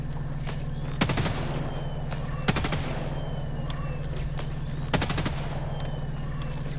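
Rapid gunfire bursts in Helldivers 2, three short rattling volleys at roughly even intervals over a steady low hum, close and fairly loud.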